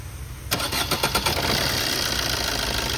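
A 2012 Maruti Swift Dzire VDi with a 1.3-litre diesel engine cranks briefly and catches, then settles into a steady, close, clattery diesel idle with no one talking.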